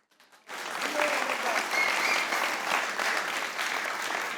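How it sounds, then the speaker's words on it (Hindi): A studio audience at a comedy show breaks into loud, sustained applause after a brief quiet moment, the dense clapping holding steady and close throughout. "तालियां बजाइए"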